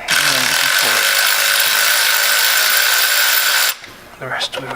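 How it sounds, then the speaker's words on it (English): An electric ratchet loosening spark plugs on an RB25 engine gives a loud, close, high whirring buzz for several seconds, then cuts off, followed by a few clinks of metal handling. "I have a handy dandy electric ratchet which makes life way easier"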